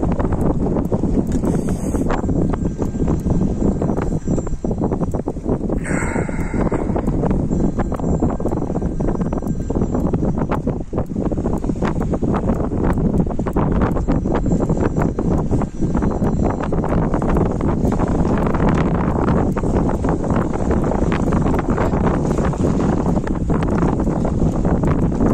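Poyraz, the north-east wind, blows hard and continuously, buffeting the microphone with a dense, roaring rush, and brief gusty flutters stand out now and then.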